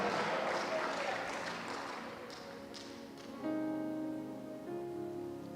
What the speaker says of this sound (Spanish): Dale fuerte ese aplauso y diga gloria a Dios en esta mañana.